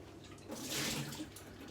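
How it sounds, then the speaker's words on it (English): Hot water drained from a pot of boiled sweet potatoes gives a short, rushing splash that swells for about a second and then settles back to a soft trickle. "Get rid of that water. Let's open the windows,"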